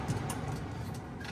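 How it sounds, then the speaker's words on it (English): Steady broadband whooshing of air blowing from a vent, constant and fairly quiet, with no talking. "Sorry for the noise, that was my vent."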